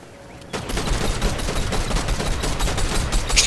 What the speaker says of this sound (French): tu te fais tirer dessus par ces connasses de Catwoman